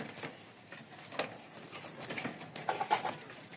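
A pair of Tiger pigeons in a home loft give soft, faint coos amid light wing flutters and scratchy patter.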